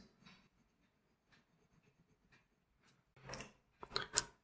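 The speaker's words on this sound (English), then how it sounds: "With compass we are going to take 8 cm measurement, and from point A we are going to cut this." A compass drawing an arc on paper while constructing a triangle, heard as faint, close scratching strokes, quiet at first and then a few louder scraping bursts toward the end.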